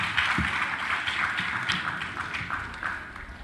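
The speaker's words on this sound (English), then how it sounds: "Another round of applause for all the speakers." Audience at a Pan Africa senior secondary school agricultural debate applauding the speakers: a continuous clatter of many hands clapping together from a crowd, steady and fairly loud throughout.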